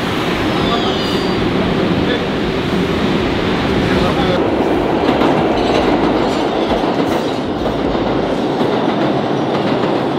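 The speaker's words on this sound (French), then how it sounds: "Le métro de New York City." A New York City subway train rumbling loudly along the tracks, steady roar with rhythmic clatter of wheels and faint squeals, heard from inside the car while people talk underneath.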